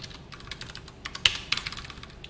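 Light typing on a computer keyboard, a quick run of soft clicks with a couple of sharper key taps, heard faintly and close by in a quiet room.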